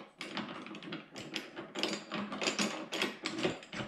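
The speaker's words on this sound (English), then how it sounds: "just screwing that locking nut on." A locking nut screwed onto a heavy-duty HMF 6750 shop caster gives a steady run of dense metallic ratcheting clicks and rattles, close and continuous for several seconds, with no speech.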